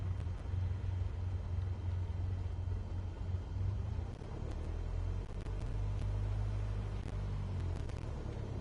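Aircraft engine in Microsoft Flight Simulator held at a steady low drone with throttle applied before takeoff, a continuous rumble with no talking.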